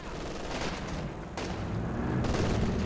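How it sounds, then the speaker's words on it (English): Battle din in Company of Heroes 2, with PTRS anti-tank rifle fire among dense overlapping gunfire and explosions, a continuous loud roar with sharper cracks and bursts, without clear voices. "Needs a few PTRA shots to secure the kill."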